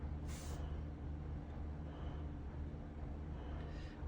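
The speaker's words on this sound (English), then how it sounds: "can you hear that? Those cement trucks?" Heavy cement trucks rumble past outside as a steady low, distant roar, with a brief hiss of air brakes near the start and another faint one near the end; no one speaks.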